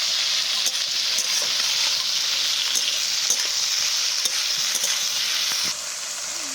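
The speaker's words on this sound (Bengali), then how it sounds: "এই মশলাটা একটু নেড়ে চেড়ে গুঁড়ো মশলাগুলো দিয়ে দেবো।" Spice paste and ground spices frying in a pan while being stirred for a Bengali rohu fish curry with potato and pointed gourd, a steady loud sizzle with scraping strokes, no voices.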